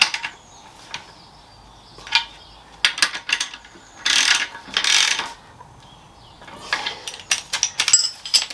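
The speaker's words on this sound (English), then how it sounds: "Just tighten these down now." A hand ratchet tightens bolts while a motorcycle roller dolly is assembled for a cruiser, giving close, crisp pawl clicking in quick irregular runs with short pauses between strokes.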